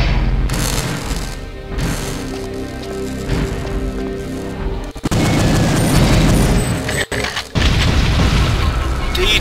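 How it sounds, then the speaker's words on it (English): Explosions in the video game Perfect Dark, loud booming blasts with crackling gunfire-like bursts that rumble on and off, a sharp cut midway and another heavy blast near the end. "Until the explosion clears away, not run into the explosion."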